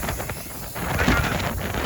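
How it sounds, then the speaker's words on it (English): Gusty wind buffets the microphone in rough, rumbling bursts, loud and close, with no other sounds. "it's cold and it's windy"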